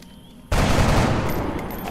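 A burst of gunfire erupts in the XCOM Long War video game, a loud, dense volley that starts abruptly and keeps ringing with a long, noisy decay.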